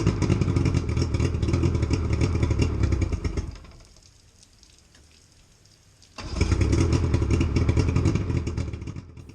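A 1984 ThunderCraft boat's two-cycle outboard engine runs loud and rough close by, cuts out to near silence for a couple of seconds, then starts up again and settles into a steady, rattly drone.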